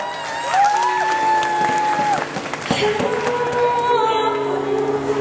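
A crowd claps and cheers for a singer at a live concert stage show, with dense applause running throughout under sustained musical tones and a lingering background hum.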